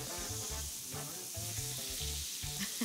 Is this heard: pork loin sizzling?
yes